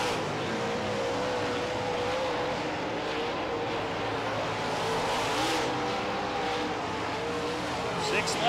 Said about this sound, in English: Ricky Weiss getting close to lap traffic